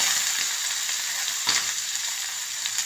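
Sardine fish fry in oil for a fish fry, making a continuous, close hissing sizzle with a brief louder splutter partway through, heard with no voices.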